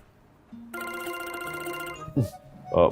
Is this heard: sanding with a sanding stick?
no